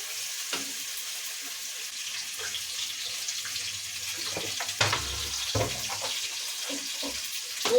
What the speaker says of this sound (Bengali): আর এটা একটু জল দিয়ে ধুবো আমি।